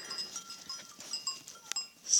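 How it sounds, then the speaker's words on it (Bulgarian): Goats in the village of Fazanovo in the Strandzha region give faint, thin bleating calls with some soft rustling, at moderate distance and without talk. "И козите."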